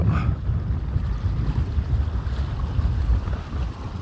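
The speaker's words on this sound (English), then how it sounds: "that wind is just strong enough to put a bow in the line on this" Strong wind buffets the microphone while fishing from a boat on open water, a steady loud low rumble with gusty swells and faint water movement underneath; no one speaks.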